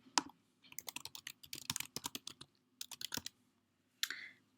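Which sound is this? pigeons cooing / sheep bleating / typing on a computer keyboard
typing on a computer keyboard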